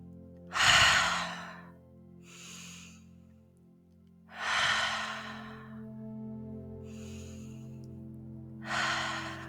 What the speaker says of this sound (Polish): Możesz wziąć kilka głębokich wdechów przez nos i później jeszcze raz wydech przez usta.